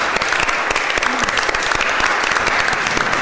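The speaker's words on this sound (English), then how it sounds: "You guys can clap." Audience applause at a San Francisco Board of Supervisors meeting, a dense, steady burst of many hands clapping in a hall, fairly loud and unbroken throughout.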